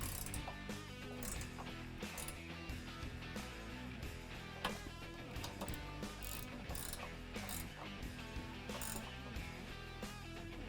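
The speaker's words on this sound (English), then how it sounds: "we're just going to start by tightening our brackets from the tube to that bracket" A ratchet clicks in quick, steady runs while tightening the brackets of a Havoc HN2 step, mounting it from the tube to the bracket, the pawl chatter loud and close throughout with no talk.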